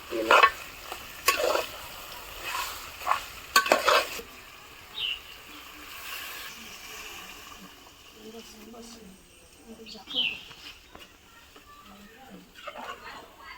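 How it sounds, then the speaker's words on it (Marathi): Chicken frying on a traditional wood-fired stove gives a soft sizzle, with stirring scrapes in bursts near the start, while people talk over it. "आजच पाहिजे चिकन भाजलं गेलं पाहिजे"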